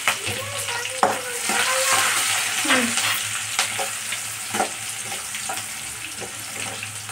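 Green chillies and onion frying in hot oil with cumin, a close, steady sizzle with scraping stirring strokes and clinks of a spoon against the pan, with no talk.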